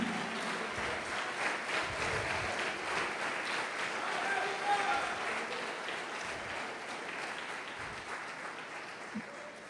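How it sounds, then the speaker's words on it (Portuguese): A church congregation applauding during a sermon, sustained clapping from many people at moderate level, with a voice briefly heard under it. "Quem pode aplaudir o Senhor por isso?"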